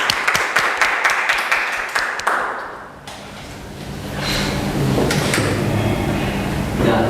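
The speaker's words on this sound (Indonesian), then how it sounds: "Kita berikan tepuk tangan." An audience at a cultural event claps during a plaque presentation, a burst of many hands that fades out after two or three seconds into a quieter room hum and faint clatter.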